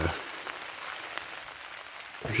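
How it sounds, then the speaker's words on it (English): Steady rain patters onto a small tarp shelter during a spring bear hunt in Oregon, a soft continuous hiss of drops with a few sharper taps, close by and fairly quiet, no voices. "it has been raining since about 2 o'clock"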